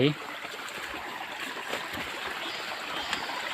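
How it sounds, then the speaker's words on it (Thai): A mountain stream in forested hills in Kamphaeng Phet, Thailand, giving a steady, close rushing and trickling wash of water that continues evenly throughout without clear speech. "ทางน้ำไหลนะครับน้ำไหลมาจากภูเขา"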